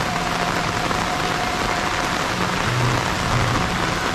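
Heavy rain pours down on a village in a dense, continuous roar with no pauses. A low rumble swells faintly beneath the downpour.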